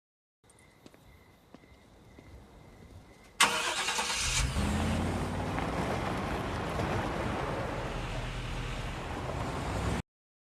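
A car drives away from a house, its engine and road noise bursting in suddenly and staying loud and steady after a quieter, faint opening.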